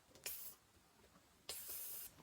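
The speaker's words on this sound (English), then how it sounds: "I'm going to be spraying this like there's no tomorrow" Two bursts of pine-scented 4-in-1 disinfectant aerosol spray, a short hiss then a longer one of about half a second, close and fairly quiet with no talking.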